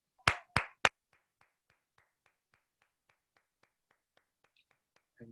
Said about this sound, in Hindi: मैं चाहता हूं एक जोरदार ताली हमारे महागुरु जी के नाम।